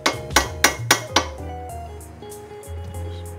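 A hammer strikes bolts out of a Fiat 500 Abarth axle: five sharp metallic blows in quick succession, close and loud, followed by ringing metal and fainter knocks.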